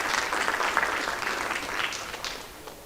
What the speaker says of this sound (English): inductees, if you could give your parents a round of applause